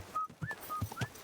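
A character in Kingdom Come: Deliverance II whistles for a horse, giving a few short quick whistled notes, some rising, over soft low background sound.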